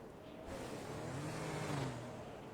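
Police car engines in a roleplay video game rev and whine with rising pitch. The engines sound fairly close and steady, with no talk over them.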